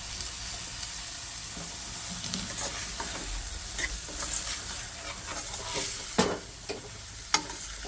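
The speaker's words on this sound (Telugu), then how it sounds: "బాగా కలిపి ఒక నిమిషం వేగనివ్వాలి గోరుచిక్కుడుకాయ ముక్కలు వేస్తున్నాను" Cluster bean pieces frying in a pan, heard as a continuous soft sizzle with scattered light crackles and a couple of sharper clinks near the end, close and moderately quiet.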